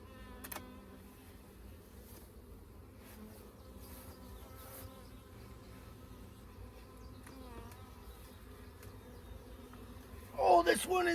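Honey bees buzz steadily around an opened, heavy hive during a honey harvest, a dense close drone with individual bees flying past the mic, and a sharper loud burst near the end.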